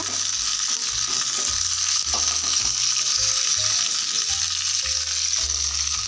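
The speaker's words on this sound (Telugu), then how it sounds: "పచ్చిమిరపకాయలు కొంచెం ఫ్రై చేసేసుకొని" Green chilies fry in oil with tamarind for a chutney, making a loud, constant close-up sizzle, with low humming tones shifting beneath it.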